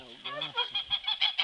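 A goose on a farm honks in a fast series of six or so nasal calls, close and fairly loud, with no talking over it.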